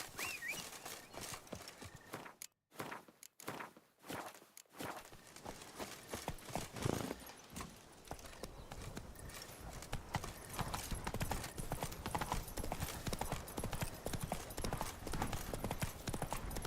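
Horse galloping in the video game The Witcher 3: Wild Hunt, a fast, steady clip-clop of hooves that starts after a few seconds of scattered game sounds and stays dense and even to the end.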